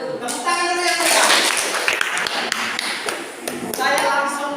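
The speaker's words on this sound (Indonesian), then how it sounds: "Tepuk tangan dulu yang meriah." An audience in a classroom session claps, a busy patter of hands under continuing talk.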